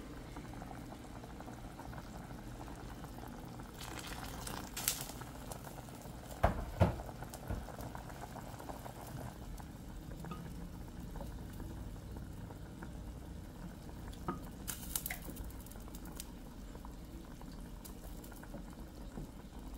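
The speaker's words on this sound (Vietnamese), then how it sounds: "Bây giờ đã chuẩn bị một phần nước mà các bạn phải đun sẵn rồi, nước sôi nhá, cho vào." Pre-boiled water poured into a pot of shrimp and vegetable soup, then a soft, steady bubbling simmer with occasional clinks and knocks, fairly quiet and close.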